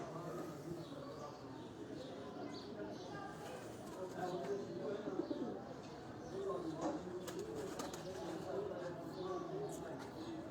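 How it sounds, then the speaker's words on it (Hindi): Pigeons of several kinds in open cages coo in soft, repeated low calls close by, with someone talking over them throughout. "इस खुले में भी मुख्तलिफ़ किस्म के जो हैं वो कबूतर हैं।"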